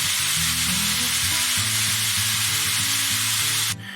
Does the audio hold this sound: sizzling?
yes